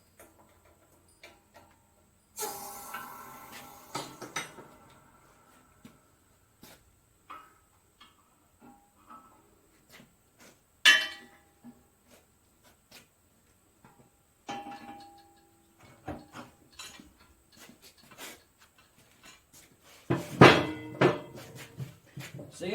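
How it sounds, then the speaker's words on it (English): Removing a stuck flywheel from a hit and miss engine crankshaft: sparse, faint metallic taps and clicks, with short bursts of clanking and rattling near the start, middle and end, in a quiet room. "See, that's how you remove a flywheel from a crankshaft."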